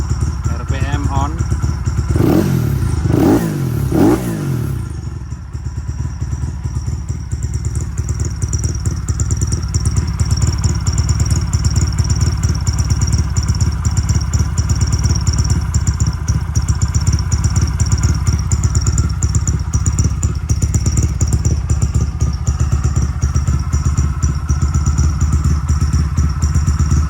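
A custom PsP-style CB motorcycle engine runs close and loud, with a few quick throttle revs early on before settling into a smooth, steady idle for the rest of the clip.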